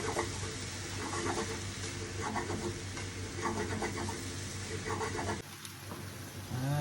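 Cabbage stir-frying in a pan with a sauté seasoning mix, giving a steady, loud, dense sizzle throughout that shifts and thins slightly near the end.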